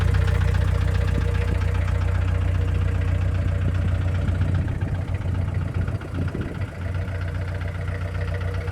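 A car engine runs at a steady, close idle with a low rumbling throb and slight knocking texture, holding even for the whole stretch with no speech over it.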